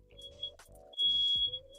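A steady electronic beep tone sounds in the background at about 3.5 kHz, holding briefly early on and again for a longer stretch, with low murmuring room noise beneath it.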